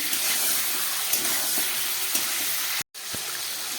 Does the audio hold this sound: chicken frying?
yes